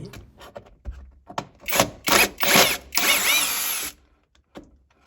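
A Masaru drill fitted with an interchangeable screwdriver head drives and backs out screws in a tight spot, giving several close, loud whirring bursts that merge into one longer run before cutting off.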